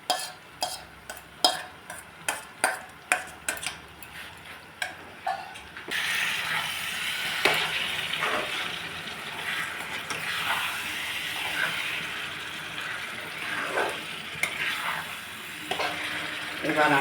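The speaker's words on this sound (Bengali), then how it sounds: "এতে ম্যারিনেট করা যে চিকেনটা ছিল আমি এটা এতে পুরোটাই দিয়ে দিচ্ছি।" Marinated chicken, without turmeric, goes into a hot pan for chicken patiala. A rhythmic series of scraping taps from stirring is followed by a loud, steady frying sizzle that continues to the end, with no talking.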